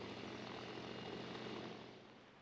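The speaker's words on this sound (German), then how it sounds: "Für die Forstschädlingsbekämpfung stehen die Flugzeuge vom Typ Z37 mit einer Arbeitsbreite bis zu 40 Metern und einer Leistung von 120 Hektar pro Flugstunde zur Verfügung." A Z37 agricultural aircraft flies low over forest on a pest-control spraying run, its propeller engine a loud, steady droning roar that fades slightly toward the end, with no voices.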